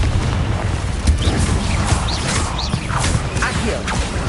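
Confringo spell blasts in the video game Hogwarts Legacy: booming explosions with whooshing bursts, loud and dense, several impacts packed closely together over a steady rumbling game soundscape.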